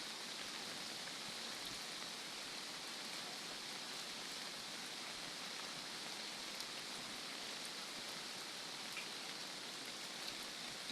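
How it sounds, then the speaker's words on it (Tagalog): Heavy rain falls steadily over a vegetable farm plot, a dense, continuous hiss of drops on surfaces with no breaks, moderately quiet and unaccompanied by voices. "Dahil nga alang tigil ang ulan."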